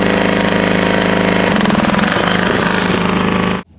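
A riding lawn mower engine with a tiller attached behind it drones loud and steady nearby, its pitch shifting slightly partway through before it cuts off abruptly at the end.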